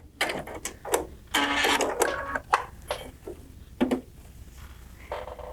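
A Baby Lock Crescendo sewing machine stitches through folded denim in short bursts of rapid mechanical whirring and clicking, with brief pauses between runs, close to the listener.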